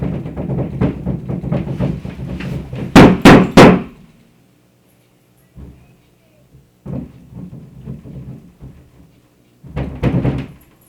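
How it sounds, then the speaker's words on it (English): Heavy thuds and bangs against a wall, a quick cluster of loud hits, mixed with shouting voices, then quieter scattered knocks and muffled sounds. "if you hear constant banging, yelling up against my wall, it's them"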